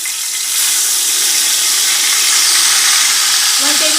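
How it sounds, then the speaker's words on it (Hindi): Onions frying in a pan of hot oil for beef haleem, a loud, dense, steady sizzle close up, with a faint voice near the end. "ये देखिए हमारी अनियन फ्राई हो रही है जो हम हलीम पे डालेंगे"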